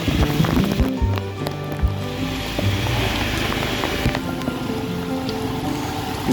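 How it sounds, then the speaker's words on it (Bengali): Heavy downpour with steady broadband hiss from rain on a rainy-day bicycle ride to the office, continuous and loud with scattered knocks and clatter mixed in, no talking. "মুষলধারে বৃষ্টি চলছে"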